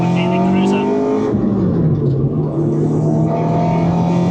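A Honda Integra Type R DC5 engine revs, its tone climbing and dropping as the VTEC engages. The close, strong engine note carries on throughout while people talk over it.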